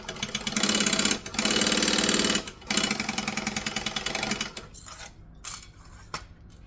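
Sewing machine stitching a seam on vinyl, steady rapid mechanical chatter in runs of a second or two with brief pauses, then slower, softer stitching and handling clicks near the end.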